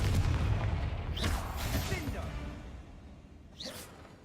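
Spell blasts and explosions in Hogwarts Legacy combat, a booming rumble followed by sharp whooshing bursts, with a spoken voice briefly over the effects.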